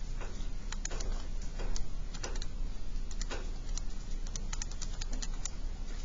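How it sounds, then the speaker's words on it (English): Rapid, uneven key presses on a calculator keypad tapping in numbers for a math problem, close and crisp, in short bursts with small pauses between groups of taps. "So we just go type that in our calculator."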